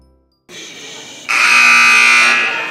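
A loud electronic buzzer sounds at the end of a women's college basketball game between Cosumnes River and American River College. A quieter tone comes first, then the harsh horn blares steadily for about a second before cutting off.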